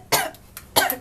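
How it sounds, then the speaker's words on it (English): Two sharp coughs from one person, the first and loudest near the start and a second burst shortly after, with a faint short rasp between, heard up close during a small Rubik's Cube speed-solving competition. "Gotta cough first."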